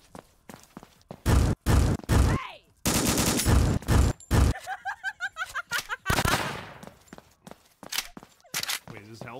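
M16 gunfire in a horror video game: loud, close bursts of rapid shots in several separate volleys, mixed with game sound effects and footsteps between them.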